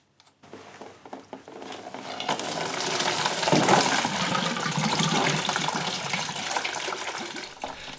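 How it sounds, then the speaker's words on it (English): Coolant pours out of a Honda CB500 motorcycle cooling system in a steady, close splashing stream that starts abruptly and runs continuously. "Time to drain the cooling system."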